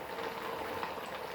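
Sabudana vada tapioca patties frying in oil in a kadai, a steady dense crackle and sizzle, close and continuous.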